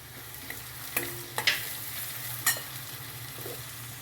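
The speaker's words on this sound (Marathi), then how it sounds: "चांगले कांदे होऊ द्यायचे लालसर अद्रक लसूण घालूया" Onions frying in a pan for pav bhaji as ginger and garlic go in, a low steady sizzle with a few sharp stirring clatters and scrapes, close by with no talking.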